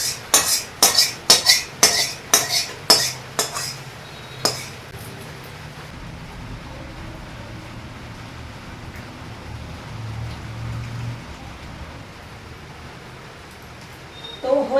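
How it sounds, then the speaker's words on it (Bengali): Cooked tel koi, a climbing perch fish curry in oil, is poured out of a metal pan with a quick run of sharp clinks and scrapes of utensil on pan, followed by a quiet, low rumbling stretch. "তো হয়ে গেছে তেল কই রান্না এবার ঢেলে নিচ্ছি"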